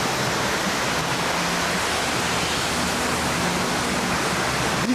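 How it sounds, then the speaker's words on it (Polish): Heavy rain pours down outdoors in South America as a dense, steady roar of hiss, close and unbroken throughout. "Leje jak jasna cholera."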